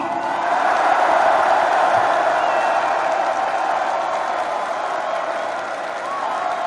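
A large indoor crowd at a Korean party convention cheers and applauds after a presidential nominee is named, a steady, dense wash of clapping and shouting that holds at moderate loudness throughout.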